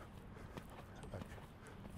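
Horse hooves thud on soft footing in an indoor riding arena during a schooling session, faint low clip-clop beats recurring over a steady room hum.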